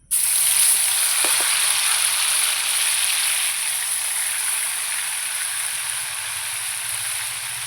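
Mustard paste and green chili paste hit a very hot pan with a loud, steady sizzle that starts abruptly and fades slightly while holding strong throughout, with no talking.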